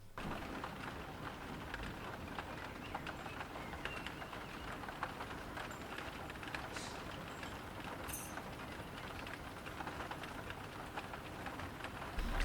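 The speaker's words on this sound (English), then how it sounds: "I forgot my umbrella and the rain has come." Faint, steady rainfall in Seattle, an even wash of fine hiss with tiny scattered drop ticks and no voices, constant in level throughout.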